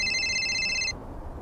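A phone rings with a bright electronic trill that repeats for about a second and then stops, leaving quiet room noise behind.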